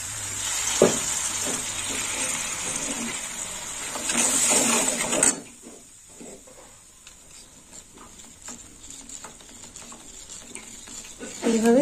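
Mustard paste added to spices already fried in a pan crackles in a loud, bright sizzle, then quiets to soft bubbling and occasional stirring scrapes, heard up close.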